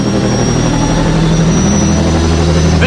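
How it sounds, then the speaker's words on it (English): Aircraft engine throbbing loudly on an aircraft carrier deck, a heavy, sustained low drone with steady pulsing and no voices. "the engine started to throb underneath me"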